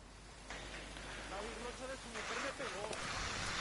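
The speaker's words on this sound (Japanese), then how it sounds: "まだ雨か" Steady rain in the Ghost Recon Wildlands video game, a continuous hissing patter under a voice talking.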